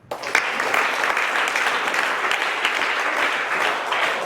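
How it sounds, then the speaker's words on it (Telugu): An audience claps loudly and steadily after a prompt at a gathering hosted by a food commission chairman honouring a hostel warden; the applause holds for several seconds with a faint voice underneath. "కానీ క్లాప్స్ ఇవ్వండి"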